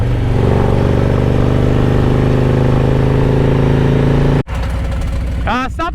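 Motorcycle riding through Central Florida on a trip north from Key West, with something dragging underneath; a steady loud engine and road drone with a rhythmic scraping texture, cut by a sudden drop, then continuing with a voice over it.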